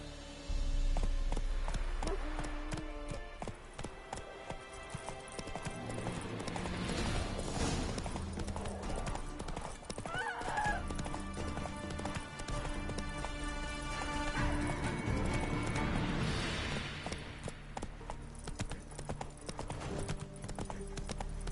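Roach the horse gallops hard in The Witcher 3, a rapid, steady clip-clop of hooves running close and loud under a music bed, with a brief whinny partway through.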